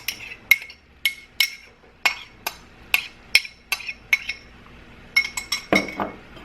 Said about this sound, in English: I'm just adding in my locust beans right there.